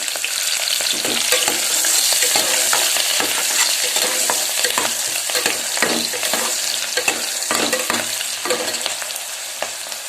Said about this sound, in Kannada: ಹೆಚ್ಚಿಟ್ಕೊಂಡಿರೋ ಎರಡು ಈರುಳ್ಳಿನ ಇಲ್ಲಿ ಸೇರಿಸ್ತಾ ಇದ್ದೀನಿ